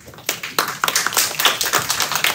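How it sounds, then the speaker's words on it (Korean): A small audience at a library forum claps to welcome a professor, a short burst of individual, distinct hand claps close by, fairly loud and uneven, with no talk. "박수로 맞아주시고요."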